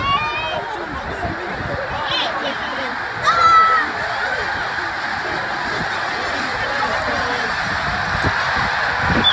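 A dense flock of snow geese honks continuously, many calls overlapping into a steady clamor, with a louder burst of honks partway through.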